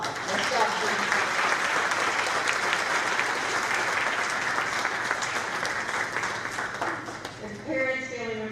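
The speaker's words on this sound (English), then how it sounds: "Let's give them all another round of applause." An audience at a student event gives a long, loud round of applause, dense clapping sustained throughout, with voices and cheers mixed in near the end.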